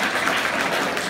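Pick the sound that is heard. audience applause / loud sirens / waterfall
audience applause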